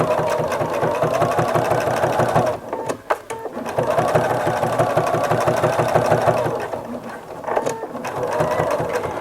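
A sewing machine stitching a fabric pot holder, a fast steady mechanical whir that stops briefly and then resumes, close with a soft voice underneath.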